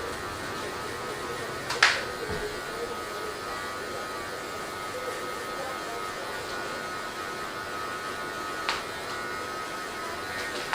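Electric hair clippers buzz steadily while cutting hair during a drop fade, a continuous close hum with two brief sharper bursts as the blade works, and no talking.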